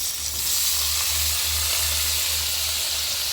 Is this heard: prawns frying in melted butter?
yes